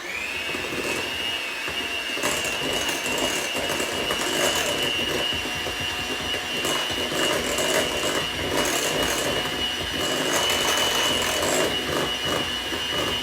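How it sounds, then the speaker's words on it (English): A hand mixer whirs steadily through sugar, butter, eggs and mashed bananas for banana bread, a loud, constant motor drone with a high whine and some rattling texture against the bowl, running alone without pause. "I'm just going to mix the sugar, butter, eggs, and bananas really good."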